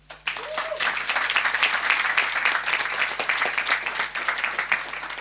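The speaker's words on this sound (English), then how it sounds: "Please welcome him with a loud round of applause" Audience applause at an evening talk on apartheid in South Africa and Israel, welcoming former ANC Member of Parliament Andrew Feinstein: sustained, dense clapping rises quickly and holds steady for several seconds, with a brief voice or whistle early on.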